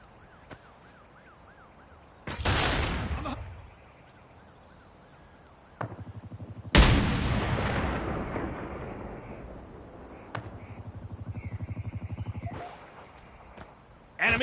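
Gunfire and blasts in the mobile game Call of Duty Mobile during a Search and Destroy match. Several loud, sharp bursts are separated by quieter stretches, and a voice speaks between them.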